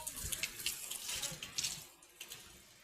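Water runs out through a freshly made hole in a new pot, a steady, gentle splashing trickle heard up close with no voices.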